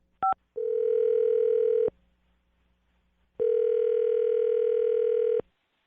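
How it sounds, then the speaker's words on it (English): A short electronic keypad beep, then two long steady phone tones separated by a brief silence, close and clear with no voices. "I'm going to dial his phone number right now"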